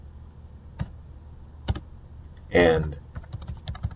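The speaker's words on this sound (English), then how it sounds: "I can now type in some R code" Someone is typing R code on a computer keyboard, with sparse individual keystrokes followed by a quick burst of clicking taps. One brief spoken word is mixed in near the burst.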